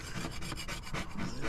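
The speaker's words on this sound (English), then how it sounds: "Cut it a bit with a scraper." A scraper rasps over painted metal on a Peterbilt truck in quick back-and-forth strokes. The close, gritty scrapes come in a steady rhythm.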